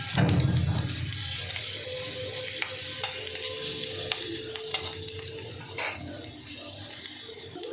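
Tadka tempering sizzles in a hot pan for egg tarka, a steady loud frying hiss with a few sharp clicks of stirring, close by and with no talking over it.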